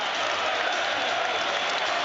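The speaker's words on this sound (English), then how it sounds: "Listen to the roar if Rafa Benitez, after embracing his coaching staff, now makes his way out onto the pitch." Stadium crowd at St James's Park during Newcastle United v Preston North End, roaring and applauding as the manager walks onto the pitch; a dense, steady wash of cheering and clapping that fills the whole clip without a break.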